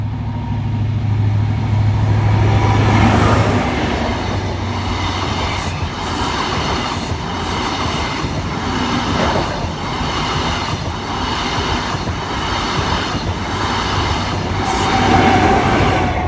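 A ScotRail HST train rolls through Metheringham level crossing, a sustained close rumble with rhythmic wheel clatter and faint squeal that holds steady throughout.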